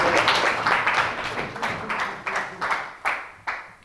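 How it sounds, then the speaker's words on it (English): A short burst of applause from a small crowd, rising in a few swells of clapping, close and fairly loud, with no talking over it. "So, big applause."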